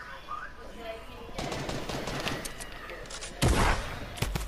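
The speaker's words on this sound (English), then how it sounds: "He's getting shot by the other dude." Video game gunfire: a steady stream of rapid shots at moderate loudness, with a louder close burst near the end and a voice talking over it.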